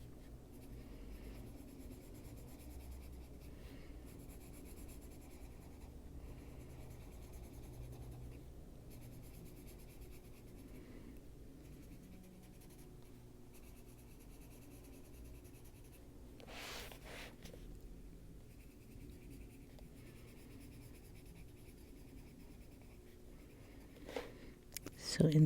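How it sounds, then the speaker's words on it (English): Pencil scratching on paper while drawing enchanted castles, switching from one pencil to a softer one; steady soft scraping strokes at close range, with a few louder knocks near the end. "So interesting using one pencil and then going in with a really softer pencil."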